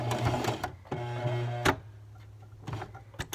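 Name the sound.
sewing machine stitching in reverse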